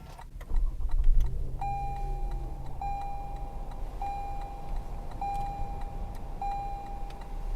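A 2019 Lexus ES 350 F-sport being started: a low thump and brief starter whir, then a quiet steady idle under a repeating high electronic chime tone sounding about every second.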